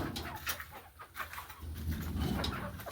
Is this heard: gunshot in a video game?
no